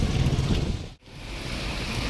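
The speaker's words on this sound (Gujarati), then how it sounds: "વરસાદી આવે છે થોડો ઘણો" Light rain falls outdoors in Keshod, a steady soft wash of patter with a brief dip midway before the even hiss resumes, heard alone without voices.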